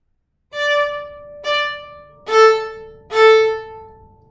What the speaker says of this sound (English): What staccato is, it is all about playing short and detached notes